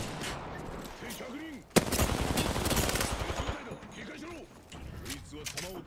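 Sustained automatic gunfire in the Apex Legends battle royale shooter, bursts of rapid shots with a sharp loud crack partway through, over continuous game noise, while a voice talks underneath.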